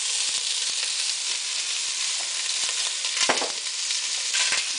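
Spices including smoked chipotle pepper sautéing in a pot for Hungarian bean soup: a loud, steady sizzle and hiss with a few stirring scrapes, and no talking.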